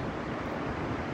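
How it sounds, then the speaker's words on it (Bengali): A waterfall rushing below snowy mountains in Kashmir, a steady, broadband wash of flowing water heard close and continuous without break. "বরফ বলে যে নিচে প্রবাহিত হচ্ছে ঝর্ণা।"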